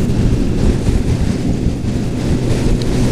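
Strong wind batters a tent at a campsite on the Irish coast, making a loud, steady roaring rumble and buffeting on the microphone, with no voices.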